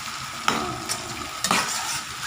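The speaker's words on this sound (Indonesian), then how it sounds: "bawangnya kita masukkan. Kita tumis ini sampai dia wangi" Onions sautéing in a pan for sambal hitam: a steady close sizzle of frying, broken by two sharper clacks of a spatula stirring against the pan.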